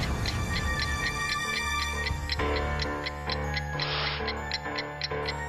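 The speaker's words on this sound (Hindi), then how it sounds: "हाँ, आवाज तो घड़ी की है।" A steady mechanical ticking repeats at an even pace, layered over a busy background of music and other sounds.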